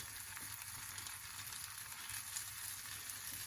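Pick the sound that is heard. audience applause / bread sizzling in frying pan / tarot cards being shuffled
bread sizzling in frying pan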